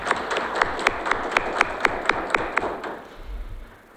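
An audience at a Waiters' Day ceremony claps in a quick, even rhythm of about a dozen sharp beats. The clapping is fairly distant and quiet, then fades out into murmur.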